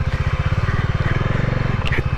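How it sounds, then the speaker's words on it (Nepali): Bajaj Dominar 400 motorcycle carrying two riders over a rough, potholed road near Kathmandu: a close, loud, rapid thumping engine beat runs steadily, ending with a brief clatter. "ल गयो बाइक चाहिँ"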